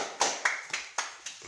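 Children clapping hands on a visit after a Durga temple darshan, five separate sharp claps in an even rhythm, fairly faint and close.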